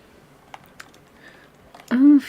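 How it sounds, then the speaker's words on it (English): Rapid typing on a computer keyboard during a live stream, a few quick faint clicks followed by a brief burst of voice at the end. "I'm furiously typing."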